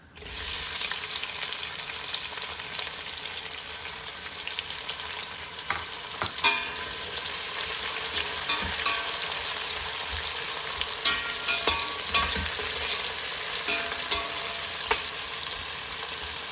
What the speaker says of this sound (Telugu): ఉల్లిపాయలు మన మంచిగా వేగుతున్నాయి కదా